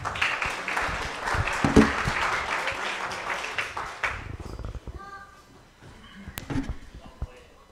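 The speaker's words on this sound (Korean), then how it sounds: "우리 다니 전도사님 우리 큰 박수로 맞이하겠습니다" A church congregation gives warm applause to welcome a woman evangelist, several seconds of dense clapping that fades out by about four seconds into quiet room noise with a few soft sounds.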